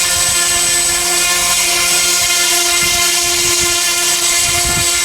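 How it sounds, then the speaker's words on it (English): A small model plane engine drones loudly and steadily with a high buzzing whine, close and unbroken throughout. "Up and away in my beautiful plane."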